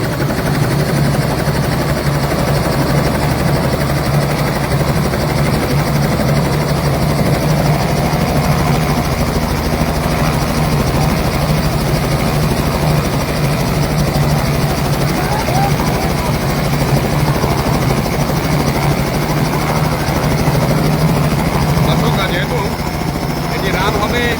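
A helicopter engine runs at a village wedding in Pipraile village, Jamira Union, where a crowd has gathered. A loud, steady droning roar carries unbroken for the whole stretch, with crowd voices blended into it.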